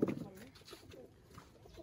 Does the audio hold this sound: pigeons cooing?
yes